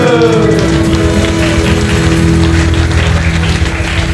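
A church congregation claps together in sustained, loud applause after a praise song, with a lingering musical tone fading underneath at the start.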